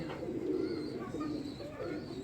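A pigeon coos in low, soft repeated phrases, fairly close and steady, released alongside others in a pigeon-keeping setting.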